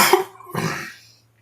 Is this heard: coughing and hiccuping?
yes